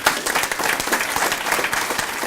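Audience at a community meeting clapping steadily, a dense, even patter of many hands filling the whole moment at moderate volume.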